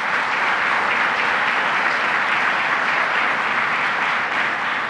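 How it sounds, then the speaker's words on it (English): Steady, dense applause fills the room from a large audience at a public announcement event, holding at an even, fairly loud level throughout with no voices breaking through. "Well, let's give a round of applause to Syracuse Mayor Ben Walsh."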